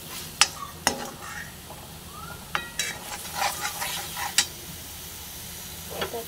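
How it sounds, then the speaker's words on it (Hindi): Masala is roasted in a pan with quick spoon scrapes and taps against the metal. The strokes come in irregular bursts over a soft, steady sizzle. "आता हा मसाला चांगला भाजून घेऊ।"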